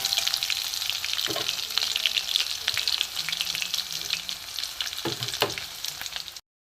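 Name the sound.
garlic, black cumin and green chilies frying in mustard oil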